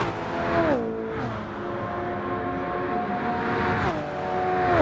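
A race car's engine in Gran Turismo 7 at Le Mans whines at high revs, its pitch dropping sharply on each of two gear shifts and then holding steady.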